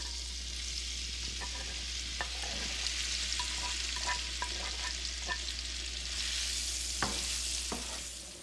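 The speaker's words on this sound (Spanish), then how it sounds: "Y ahora ya vamos a poner a freír nuestras salchichas también." Sausages fry steadily in a pan for frijoles charros, a continuous crackling sizzle broken by sharp pops and spatters, with the scrape of stirring now and then, close and unbroken throughout.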